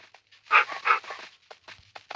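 Dog panting in the video game Minecraft, a few quick breathy bursts, two louder ones near the start followed by softer, scattered pants, fairly close and with no talk over them.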